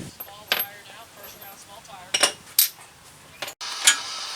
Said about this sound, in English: Put the Allen wrench in, use an open end, and keep tightening until you feel like it's tight enough